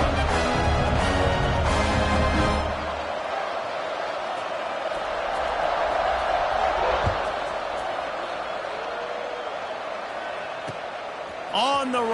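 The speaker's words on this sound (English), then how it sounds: "this crowd is buzzing after that last score" A large stadium crowd at a football game keeps up a broad, steady roar for several seconds after a score, with louder noise at the start and a faint whistle-like rise near the end.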